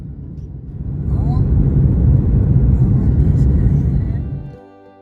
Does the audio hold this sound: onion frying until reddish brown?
no